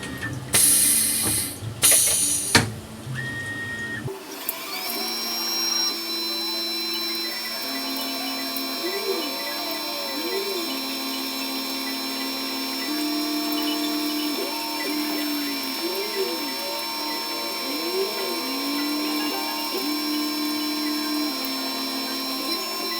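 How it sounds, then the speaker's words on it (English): A Tormach CNC mill running a chamfer mill around the perimeter of a part: a few loud clattering bursts, then a steady high motor whine with cutting tones that sweep up and down in repeating passes. "finally we're going to go around the perimeter of the part with a chamfer mill"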